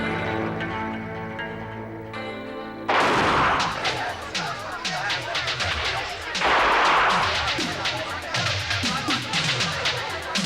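Rapid bursts of gunfire aimed at a clay pot erupt loudly after a brief quiet stretch, repeated cracking shots filling the clip with dense, clattering echoes.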